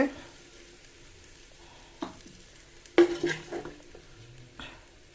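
Food fries in a pan with a soft background sizzle, punctuated by several sharp clinks and scrapes of a utensil stirring and lifting the fried pieces out.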